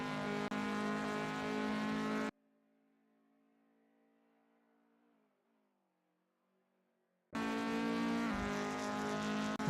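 Mk1 Golf race cars in a sim racing game roar loudly with layered engine whine at the start and end, separated by a long near-silent gap with only a faint tone.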